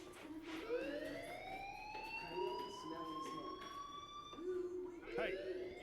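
A fire alarm in the Life is Strange video game gives out a quiet, rising, wailing siren tone that repeats, with faint voices beneath it.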